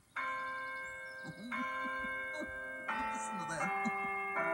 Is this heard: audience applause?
no